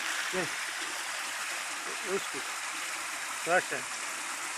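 Shower water runs in a steady broadband hiss throughout, with a voice speaking briefly a few times over the spray.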